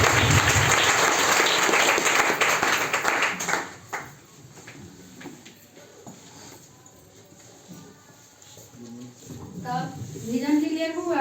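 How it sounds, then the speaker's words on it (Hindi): An audience at a DXN health seminar bursts into loud applause for a speaker, dense clapping that fades after about four seconds, followed by a voice talking. "अजीत सर के ऊपर जोरदार ताली।"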